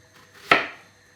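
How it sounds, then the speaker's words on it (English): A single sharp knife chop slices through onions being cut into fine pieces, a crisp close thud with a short decay, isolated in a quiet kitchen. "Now you're going to chop them into fine pieces."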